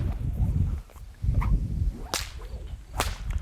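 Whip cracking during a bodywrap trick: two sharp cracks about a second apart, each following a rushing swish of the whip, over a heavy low rumble of wind or handling noise.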